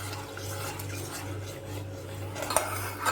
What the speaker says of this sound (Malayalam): ഇനി നമുക്ക് നന്നായിട്ട് ഇത് മിക്സ് ചെയ്യാം.